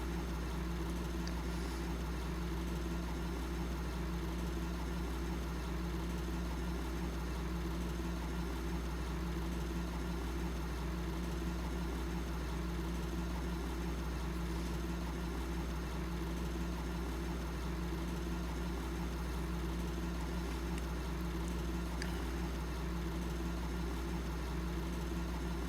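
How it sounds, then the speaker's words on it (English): A 180 horsepower tractor engine pulls a gravity wagon in Vojvodina, Serbia, a steady low droning hum that runs unbroken and moderately loud at a distance with no talk over it. "I think it's a 180 horsepower tractor, which is a decent size."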